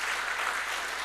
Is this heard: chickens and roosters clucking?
no